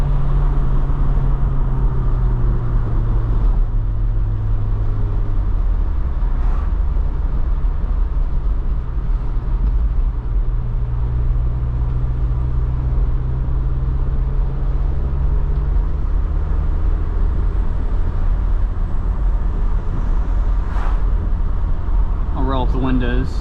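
Interior of a 1993 Toyota MR2 cruising in 4th gear with the windows up: a constant low engine and road drone fills the cabin, broken only by a brief shift in tone early on.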